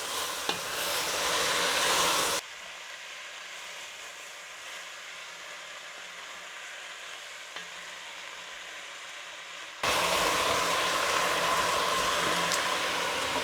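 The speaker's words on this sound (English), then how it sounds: "And now the onions go in. Give it all a good stir." Onions added to a pot of braising beef for Egyptian kabab halla sizzle hard and are stirred, in a loud frying burst that drops to a quiet lull and then surges again.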